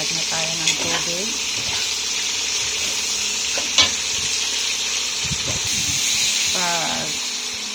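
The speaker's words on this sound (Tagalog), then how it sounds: "Mag-add na tayo ng tubig." Water is poured into a pot of silky chicken soup seasoned with rosemary, giving a steady close rushing hiss with light clinks, while a voice speaks briefly.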